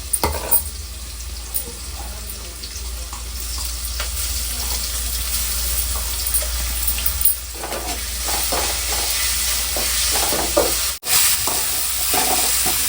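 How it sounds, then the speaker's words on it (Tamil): Ginger garlic paste sizzles and fries steadily in a pan for a mutton kurma, with stirring scrapes and clinks over a constant close hiss, no talk. "இப்படி வந்து நான் இஞ்சி பூண்டு பேஸ்ட்டு போட்டுக்கிறேன்"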